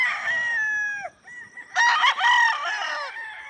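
A bulik gamefowl rooster crows loudly and close by, one full cock-a-doodle-doo call followed by a second burst of crowing with clucky overtones.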